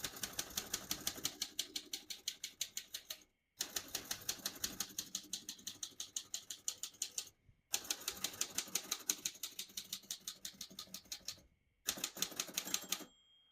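A 1936 Royal Model O portable typewriter is typed on up close, with rapid bursts of crisp, loud keystrokes clacking in steady runs, separated by short pauses, with a faint bell ring near the end.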